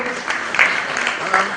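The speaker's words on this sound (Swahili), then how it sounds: "Tuingie makofi Bwana Mboro." A church congregation at a service attended by political leaders in Thika, Kenya, breaks into applause, a steady crowd clapping mixed with voices and cheering at moderate distance.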